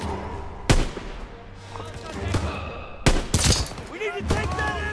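Gunfire crackles through a WWII battle in the Hürtgen Forest, 1944, with sharp bursts and shots near and far, one loud crack early and a dense volley after the midpoint, under faint voices and battlefield rumble.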